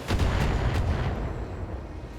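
Heavy booming gunfire from mechs' machine guns in the video game Battletech, a dense rolling burst of loud, low thuds with sharp onsets early on that trail into a sustained rumble, with no talk.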